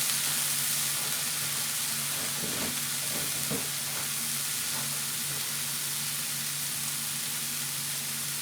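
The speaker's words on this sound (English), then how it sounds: "Goes right into the frying pan." Steady, broad sizzling hiss of ground beef frying in a hot pan, with a low hum beneath and a few faint clinks from stirring.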